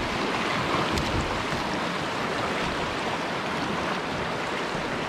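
A rough, fast-flowing river rushes loudly and steadily throughout, a dense broadband roar of churning water heard on a fishing trip.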